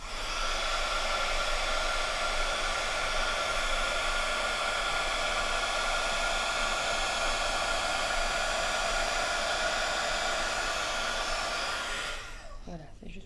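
A hair dryer runs continuously at close range on a paper card craft page, a loud steady blowing hiss that holds for about twelve seconds, then cuts off near the end.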